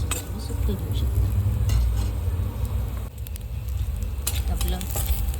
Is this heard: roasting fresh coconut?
yes